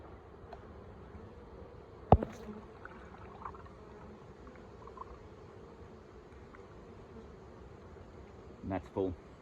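Honeybees in a hive after sugar syrup feeding on a cold early-winter day, a low steady buzz held throughout, with a sharp knock near the start and a brief louder bump at the end.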